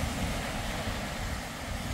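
Waves wash onto a Michigan lake beach at Christmas Cove, a constant low surf roar mixed with wind buffeting the microphone, close and unbroken with no talking.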